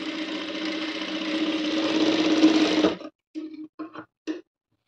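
A sewing machine stitches a high-neck sleeveless blouse, running in a steady close whirring burst for about three seconds before stopping, then giving several short stop-start stitching spurts.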